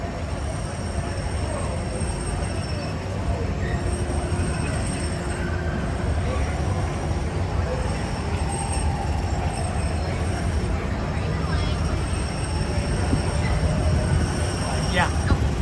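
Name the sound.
Disneyland monorail train arriving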